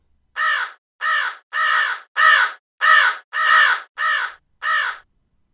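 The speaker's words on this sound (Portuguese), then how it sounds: "O mesmo bando de corvos." A flock of crows caws eight times in a horror story, each harsh call evenly spaced and clear against silence.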